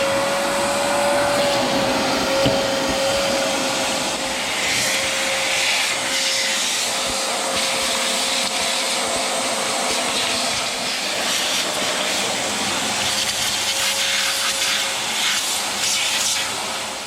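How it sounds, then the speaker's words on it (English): A vacuum cleaner runs steadily through the whole stretch, a loud, close, constant motor whine with a high rushing roar and no pauses, cleaning up around a damaged outboard motor during a boat restoration. "Let's get the vacuum out."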